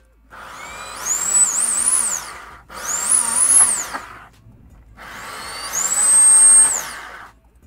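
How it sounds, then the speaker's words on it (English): A power drill fitted with a larger bit cuts into the plastic case of a Netgear DGND3700 router in three loud, close whirring bursts, each rising and steadying in pitch before stopping. "So now I'm switching to the bigger drill bit here."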